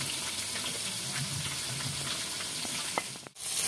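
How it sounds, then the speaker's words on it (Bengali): Pieces of rupchanda (pomfret) fish sizzle in hot oil in a pan, a close, continuous hiss and crackle that drops out abruptly near the end before resuming. "এই যে দেখুন মাছগুলো ভাজা হয়ে গেছে"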